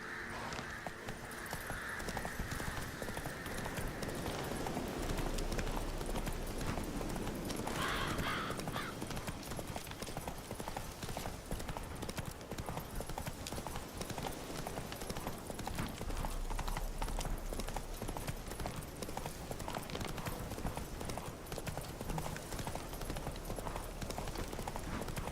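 Roach the horse gallops in The Witcher 3, her hooves keeping up a steady, dense clip-clop for the whole stretch under continuous outdoor game ambience, with a brief whinny-like call early on.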